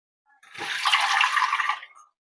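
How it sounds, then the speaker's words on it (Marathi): Water is added to flour while kneading puri dough. A short pour from a tap or vessel splashes and gurgles for about a second and a half, close by, with no talking. "थोडं थोडं पाणी घालून आपल्याला हे मिक्स करायचंय."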